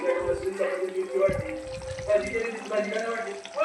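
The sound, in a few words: water added to brinjal cooking in oil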